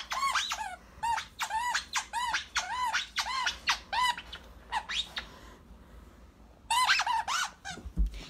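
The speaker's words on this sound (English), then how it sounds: "But did it have to squeak? I feel like she talks through the squeaker." A dog's squeaky toy squeaks in quick repeated bursts, high and shrill, in irregular clusters of two to four squeaks with short pauses, loud and close.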